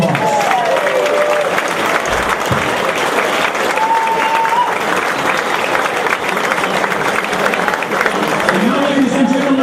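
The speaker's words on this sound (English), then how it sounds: "Let's give him a big round of applause" Sustained audience applause fills a hall at a 2015 hall of fame induction ceremony, steady and dense for the whole stretch with a few cheers and whistles rising over it.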